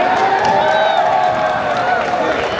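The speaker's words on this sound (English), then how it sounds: "Let's get another round of applause for your Congressman." Crowd cheering and clapping for a congressman at a crypto community event in Detroit, a steady dense wash of applause with whoops throughout, with talk over it.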